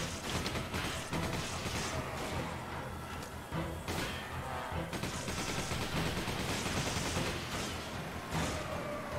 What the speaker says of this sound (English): He shot me in the face with a sniper.